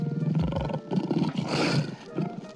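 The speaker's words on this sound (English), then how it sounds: "That was actually a lion." A lion roars in rough, throaty bursts, loud and close, with several pulses across a couple of seconds.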